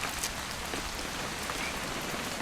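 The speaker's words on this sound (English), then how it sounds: "It's gonna rain the whole weekend," Steady rain falls throughout a scene in the video game What Remains of Edith Finch, a dense, even patter of drops on surfaces with no pauses and no voices.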